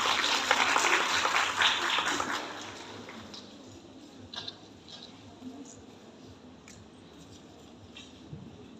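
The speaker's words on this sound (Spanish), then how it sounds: "Le damos un fuerte aplauso" Audience at a nutrition congress claps for a speaker, a burst of applause that is loud at first and fades after about three seconds, leaving scattered claps and quiet room noise.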